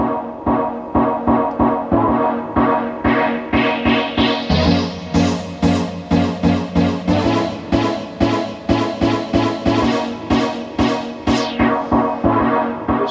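A looping electronic synth pattern with a driving bass pulse grows brighter and fizzier as its low-pass filter cutoff sweeps open, with rhythmic hits throughout, in a deep house style; no talking.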